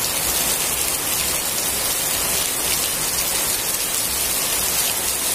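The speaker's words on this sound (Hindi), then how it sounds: "ये तो धान की खेत के लिए काफी अच्छी बारिश है" Heavy rain pours over a paddy field of tall rice plants, a dense, even, hissing roar that holds steady throughout with no voices.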